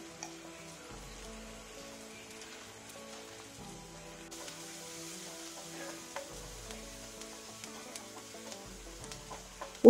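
Chopped onions fry in a pan for a banana stem masala, giving a steady, close sizzle with scattered small crackles and pops throughout and no talking.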